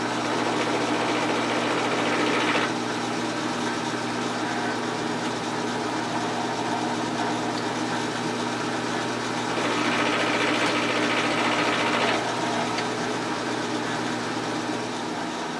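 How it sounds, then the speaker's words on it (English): A machine tool takes steady cuts on the valve chest of an 1880s steam engine, producing a continuous close mechanical whir and drone with two stretches of brighter, louder cutting noise partway through. "take cut after cut till we get a clean surface"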